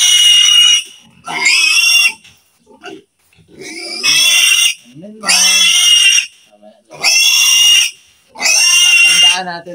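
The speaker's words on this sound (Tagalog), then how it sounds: "Pupurga tayo ngayon ng ating mga biik." Piglets being dewormed on a farm let out loud, shrill squeals in long repeated bursts, about six in ten seconds, with short gaps and some low grunting and voices between them.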